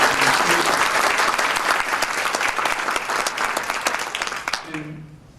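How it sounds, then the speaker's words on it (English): Audience applause at a charity event fills the room loudly and steadily, a dense wash of many hands clapping that gradually thins and fades out near the end. "So I think we should give them a round of applause for what they're doing for fathers."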